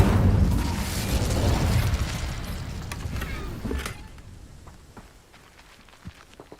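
An Incendio fire spell goes off in Hogwarts Legacy: a loud burst of roaring, crackling flame that gradually dies down over several seconds, leaving faint scattered pops and crackles at the end.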